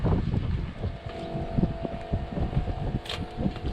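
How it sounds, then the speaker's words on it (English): Gusty wind buffets the microphone outdoors in a field beside a New Holland T8 410 tractor, giving an uneven low rumble with a faint steady mechanical hum underneath. "It's windy out here too"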